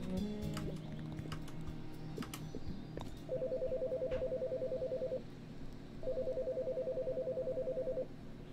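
A telephone rings in the video game Chicory, an electronic trill sounding in two sustained bursts of about two seconds each over soft background game music, with no talking.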